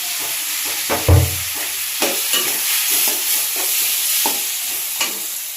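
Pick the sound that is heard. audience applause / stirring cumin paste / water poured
stirring cumin paste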